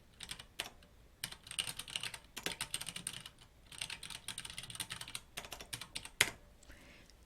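Figures are entered on a computer keyboard in bursts of quick, close keystrokes separated by short pauses, with one louder key strike near the end and no talking.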